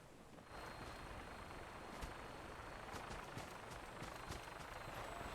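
Vertibird aircraft from Fallout 4 arriving, a steady, broad rotor-and-engine roar that holds at an even level throughout with faint rhythmic chopping above it.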